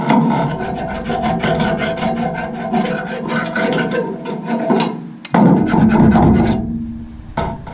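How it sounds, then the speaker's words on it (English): Dirt being scrubbed off a John Deere mower blade, a close, steady rasping and rubbing with rapid strokes, briefly pausing near the end before resuming. "We'll clean this dirt off the top of it."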